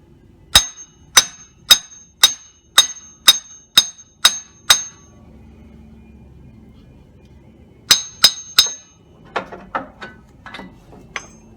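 Sharp metallic hammer blows on a CV axle of a 2010 Chevy Silverado ring out in a steady rhythm, about nine quick strikes, then a pause before a few more hits and lighter clanks trailing off.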